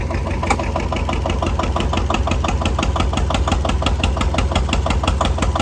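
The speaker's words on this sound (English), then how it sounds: "I'm going to put the load on it now. Listen to the tone of the engine." Old stationary engine at a summer show running under load, its governor holding speed, with a steady loud rhythmic chugging and fast even firing pulses throughout, alone with no voices.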